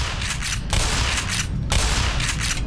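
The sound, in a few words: gunshots in video game Black Mesa Blue Shift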